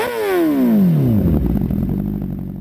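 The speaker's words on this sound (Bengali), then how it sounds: "দেখেন 6 নাম্বার গিয়ারে 5000 আরপিএম এ চলতেছে" Motorcycle engine running in sixth gear at around 5000 rpm, a close, loud drone whose pitch sweeps steadily downward before settling into a rough, steady rumble.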